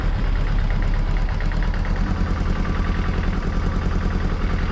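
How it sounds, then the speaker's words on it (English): A Kawasaki ZXR750 H1 motorbike engine, a rough-running machine with freshly serviced carburettors, runs with a loud, close, rapid uneven chatter and steady throb throughout, with no voices. "And let's go for a start."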